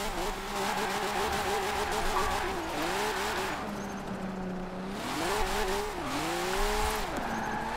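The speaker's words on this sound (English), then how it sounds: "So we're gonna bring out Chris Forsberg's 370Z" Chris Forsberg's Nissan 370Z drifting in Forza Horizon 4, its engine revving and swooping in pitch as the tires squeal through repeated slides, loud and continuous with no talk.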